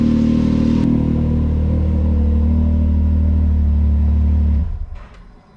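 A Can-Am Maverick X3 side-by-side idles loudly and steadily after a coolant flush, its throbbing engine drone holding close and even before cutting off near the end and fading to quiet.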